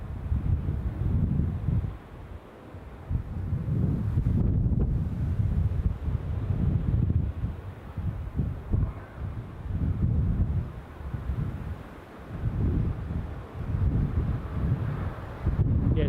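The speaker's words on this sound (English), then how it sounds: "That was the wind blowing me back on my heels." Strong wind at Newcastle International Airport buffets the microphone in deep, rumbling gusts that surge and drop repeatedly, loud and close, with no speech.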